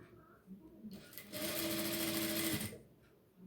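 A sewing machine stitches the hip band of an unlined blouse in a single burst of about a second and a half, a close whirring buzz set between quieter stretches.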